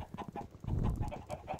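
Chickens cluck in the Minecraft Skyblock video game: a run of short, close clucks in an uneven rhythm, with a louder cluster midway and no one talking over them.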